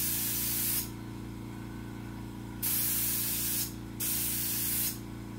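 A paint sprayer puts paint onto furniture in three loud hissing bursts separated by short pauses, over a steady low motor hum.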